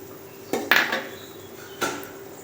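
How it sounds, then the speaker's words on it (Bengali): A utensil clinks and scrapes against a pan while fish curry is stirred, two or three short metallic bursts separated by quiet, fairly close with no voices. "একটু নেড়ে চেড়ে দেব"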